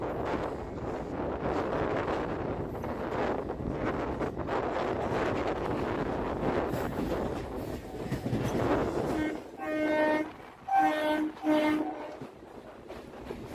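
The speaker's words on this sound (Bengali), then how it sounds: "এখান থেকেই আমাদের ট্রেনটা হাওড়া বর্ধমান মেন লাইনে ঢুকে গেল" A local train runs along the Howrah–Bardhaman main line near Hooghly station, a steady loud rumble with wind buffeting, then a tonal horn blares in a few short blasts near the end.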